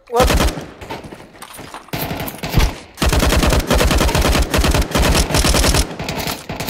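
Bursts of rapid automatic gunfire in Counter-Strike 2 on the map Dust, loud and close, come in several long volleys separated by short pauses, with game sound effects around them.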